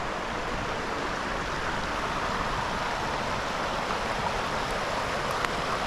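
River water flows in a steady, broadband rush, an even and unbroken wash of sound that stays moderately loud the whole time, with no voices.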